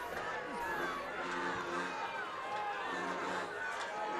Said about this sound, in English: And that Lakewood Ranch crowd responding,